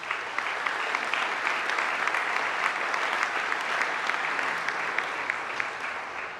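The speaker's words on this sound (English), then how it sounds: "Please give them another round of applause." At the opening ceremony for the new Bay Bridge East Span, a large crowd claps in a dense, sustained round of applause that stays loud and even for several seconds.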